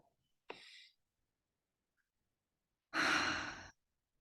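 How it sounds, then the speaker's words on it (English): A single long, deep breath drawn in and let out during a calm guided relaxation, heard alone and close: a short soft inhale, a pause, then a louder, fuller breath lasting nearly a second. "You can take a long, deep breath in."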